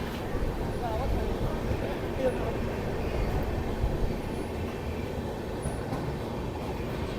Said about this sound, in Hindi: फ़िलहाल ट्रेन अभी चल रही है 50 मिनट की देरी के साथ।